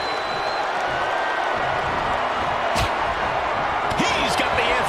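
A capacity crowd at a wrestling match between Cody Rhodes and Braun Strowman roars steadily throughout, with a dense, sustained wash of arena noise and a few sharp impacts.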